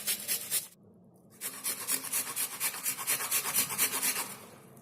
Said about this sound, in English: Scrape the onion fully.